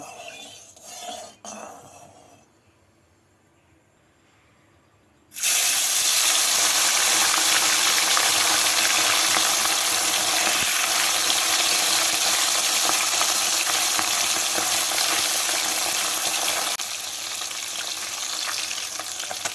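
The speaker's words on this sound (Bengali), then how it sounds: "মাছগুলোকে উল্টে পাল্টে হালকা লাল করে ভেজে নেব" Bata fish fry in hot mustard oil in a wok. After a few seconds of quiet with small clinks, a loud, dense sizzle bursts in when the fish go in and keeps on steadily, easing slightly toward the end.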